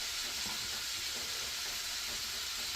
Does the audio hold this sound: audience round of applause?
no